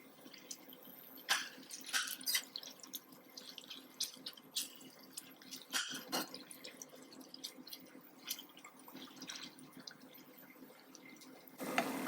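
Water is poured into masala in a pan while fried arvi is cooked, giving scattered splashes and drips of varying loudness over a quiet background hiss, with a louder burst near the end.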